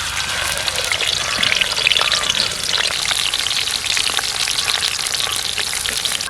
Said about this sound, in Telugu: ముందుగా మనం ఆనియన్స్ని బ్రౌన్ కలర్లో వచ్చే వరకు ఫ్రై చేసుకుందాం.